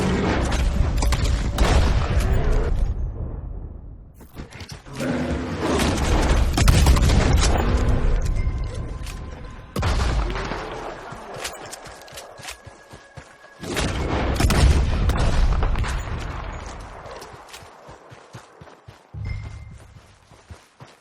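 Gunfire rings out in a video game fight during a legendary bear hunt, with loud clusters of rapid shots and heavy booms coming in about four bursts, separated by short quieter gaps.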